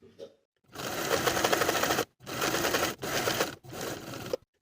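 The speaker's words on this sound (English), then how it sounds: "Now I'll sew my hems in place close to my finishing stitches all the way around for both legs." Domestic sewing machine stitching the hems of elastic-waist women's pants, running in three long steady bursts of rapid whirring, close and loud, with brief pauses between runs and no talking.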